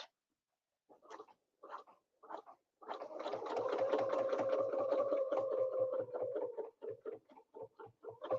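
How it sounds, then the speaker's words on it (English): A sewing machine stitches in the ditch along a quilt seam, starting with a few short bursts and then running in a longer steady whir broken by rhythmic clicks, close and fairly quiet. "I'm going to stitch to the ditch, and then I'm going to come down."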